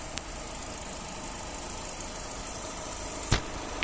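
A Vauxhall Corsa 1.4 petrol hatchback with automatic gearbox idles with a steady, even hum, broken by a couple of sharp clicks, with no voices.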